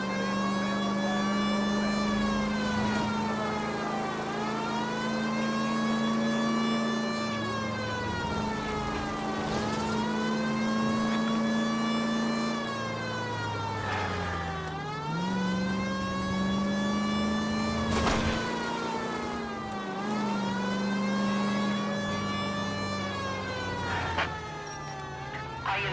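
A wailing ambulance siren from the 1940s Los Angeles crime game L.A. Noire rises and falls in long repeated sweeps, loud and continuous over a steady engine drone.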